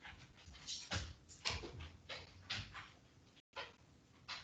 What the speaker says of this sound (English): And I hear my dog coming in.